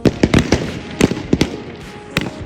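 Gunfire from cadets shooting at targets on a zero range, heard as sharp cracks in uneven bursts, some close together and others spaced out, at moderate distance over outdoor background noise.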